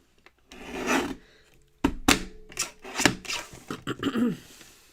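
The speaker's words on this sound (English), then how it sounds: "I'm going to trim this to the bottom of the original card." Paper card being trimmed with short rasping cuts and scraping strokes, several bursts in a row. The sound is close and fairly loud, with no talking.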